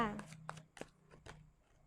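Tarot cards shuffled and drawn by hand during a reading, giving a few soft papery flicks and slaps over about two seconds, close and quiet, with a low steady hum underneath and a voice nearby.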